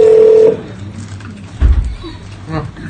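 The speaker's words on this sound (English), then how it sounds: "We're going to call Sue again" A telephone tone sounds as a call is placed during a live show in London: one steady, loud beep lasting about half a second, then people talking over faint background noise.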